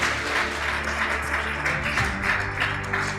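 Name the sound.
audience clapping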